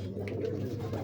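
A young female Ferozpuri pigeon gives a brief, low cooing murmur close by, quiet against a faint steady hum.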